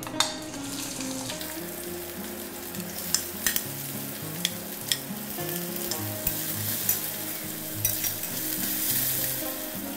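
Onion hits hot oil already holding fried cumin seeds and sets off a loud, steady sizzle close by, with a few sharp utensil taps on the pan.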